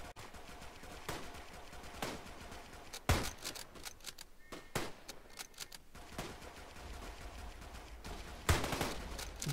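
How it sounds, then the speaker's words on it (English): Machine gun fire in the battlefield video game Tannenberg, heard as faint bursts and scattered sharp distant shots with quieter stretches between them and a louder crack near the end. "I hear a machine gun"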